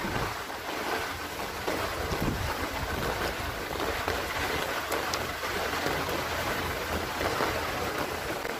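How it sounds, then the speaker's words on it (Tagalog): Strong wind from Typhoon Odette roars steadily as a constant broadband rush with rain noise mixed in, buffeting the microphone outdoors for the whole stretch. "Malakas na yung hangin."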